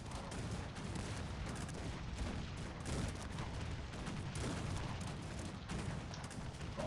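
Musket volleys in the video game Cossacks 3, dense crackling gunfire and distant booms rolling continuously with no break, a steady wall of battle noise.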